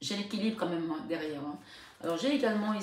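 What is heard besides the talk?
No distinct noise like a dog, phone or traffic.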